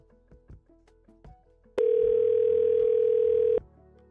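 A voicemail tone on a phone call sounds as a single steady electronic beep lasting nearly two seconds, following a few faint clicks and quiet line noise.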